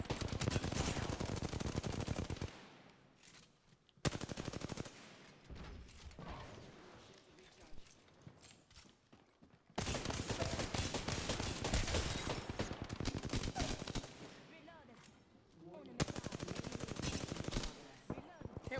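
Apex Legends gunfight with dense bursts of automatic weapon fire, loud and rapid, broken by a few short lulls before the shooting resumes.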